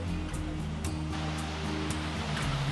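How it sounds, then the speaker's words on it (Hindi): Overflow from Bhushi Dam near Lonavala pours down as a monsoon waterfall, a steady, dense roar of rushing water, loud and continuous throughout with no pauses. "यही डैम का पानी ओवरफ्लो होके वाटरफॉल बन रहा है"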